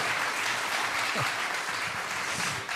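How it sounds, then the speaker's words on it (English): An audience applauds at a livestreamed folk music show, a broad, even wash of clapping held steady throughout, with a few faint voices beneath. "let's give Jerome a big round of applause for catching on"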